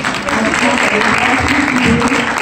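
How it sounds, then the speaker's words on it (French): Steady, full applause from an audience at a personal development conference in Montréal fills the whole stretch, dense and even from start to finish. "Est-ce qu'on peut l'applaudir, s'il vous plaît?"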